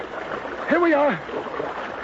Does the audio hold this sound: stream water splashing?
yes